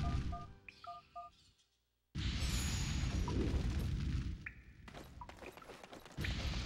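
Fireworks go off outside with dull booms and rumbling bursts. After a short gap they continue as a sustained barrage, mixed with faint electronic game tones.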